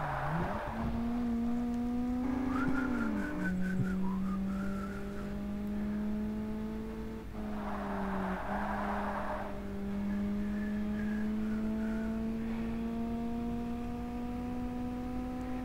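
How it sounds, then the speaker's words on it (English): Synthetic engines from the racing game Forza Motorsport 1 drone and shift pitch steadily, rising and falling with gear changes, continuous and uninterrupted. "do you think the car noises are maybe too quiet now?"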